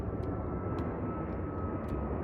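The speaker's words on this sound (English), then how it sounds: "annoyed by the planes" Airplane engine roar overhead beside a dried river near Lake Garda, a steady broad drone that stays loud and unbroken throughout, with faint scattered clicks on top.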